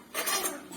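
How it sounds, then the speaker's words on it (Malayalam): A spoon smooths halwa mixture made with rice water in a dish, making one brief, close scraping swipe of metal against the vessel. "ഒരു സ്പൂണ് വെച്ച് നമ്മൾ അതൊന്ന് ലെവൽ ചെയ്ത് കൊടുക്കുവാണേ"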